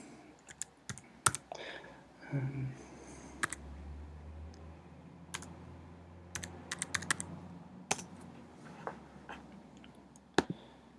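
Keys clack on a computer keyboard as an enrollment key is typed in, sharp isolated taps in irregular bursts with pauses between, close and clear over a quiet room.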